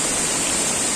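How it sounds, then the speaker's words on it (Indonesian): Steady, loud broadband roar of the second tier of Lubuk Hitam waterfall in West Sumatra, close by and unbroken, with no voices over the rushing water. "inilah ya kondisi air terjun Lubuk Hitam tingkat 2."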